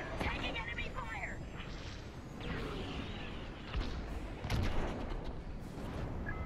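Enemy fire pounds a starfighter during a dogfight with TIE fighters in the Star Wars: Squadrons video game, bursts of blaster and cannon impacts crackling over engine rumble while a voice talks throughout.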